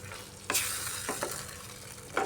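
Spicy cabbage cooked with a little sugar, stirred and fried in a pan: a steady close sizzle with a few sharp scraping strokes of the spoon, the last one louder.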